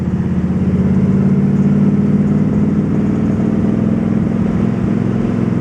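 A 1955 Ford Crown Victoria rolls along with its engine running steadily, a loud, close, continuous low rumble and drone at even speed, with no talking.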